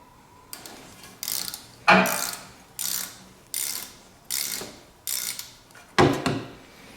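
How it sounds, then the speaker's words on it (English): A long ratchet or cheater bar works stubborn exhaust nuts loose on a Honda Fourtrax 300 FW ATV, giving about eight sharp, evenly spaced ratcheting bursts, close and fairly loud, with no talk over them. "I suggest you use about a 16 to an 18 inch long ratchet or a cheater bar."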